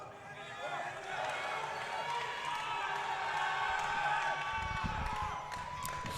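A crowd cheering and whooping in support of a Swedish junior lifter at the World Classic Powerlifting Championships, a steady sustained roar of voices in a large hall.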